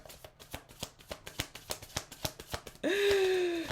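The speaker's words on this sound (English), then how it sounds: "We're gonna have to keep shuffling." Tarot cards are shuffled in quick, regular riffling snaps up close, then a louder continuous flutter as the deck is bridged, with a brief vocal exclamation near the end.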